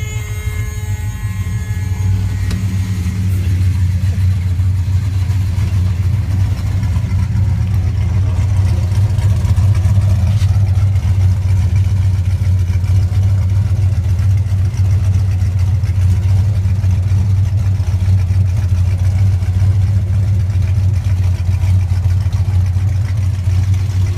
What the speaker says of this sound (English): exhaust tones don't usually record too well. This one lets you hear that it runs nice and even